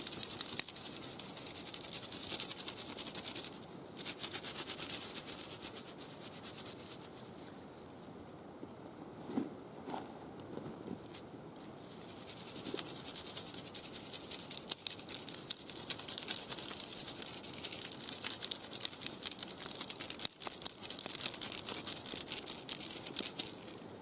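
Outdoors in a forest, dirt and pine needles are scraped and pushed back into a dug hole for a wolf trap, a close, continuous scratchy rustling and crumbling with brief pauses, no voices.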